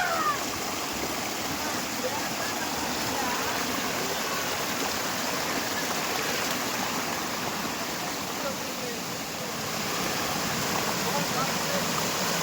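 A waterfall and a rain-swollen stream rush in a dense, continuous roar, loud and close, after days of heavy rain, with people talking over the water.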